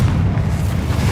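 A Confringo fire spell goes off in Hogwarts Legacy, landing as a dense, booming blast with a low rumble that holds steady through a brief moment of combat.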